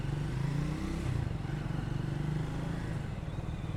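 Triumph Scram 400 motorcycle on a short indoor test ride, a steady close engine drone with a throbbing low rumble that holds level throughout.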